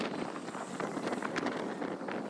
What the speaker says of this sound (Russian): Извините за ветер.